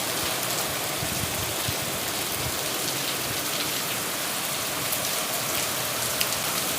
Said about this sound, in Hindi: कितनी तेज बारिश है। ये देखिए कितनी तेज बारिश बढ़ती चली जा रही है यहाँ पर।